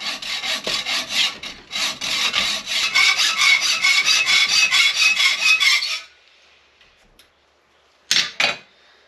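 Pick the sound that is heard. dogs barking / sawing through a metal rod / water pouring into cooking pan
sawing through a metal rod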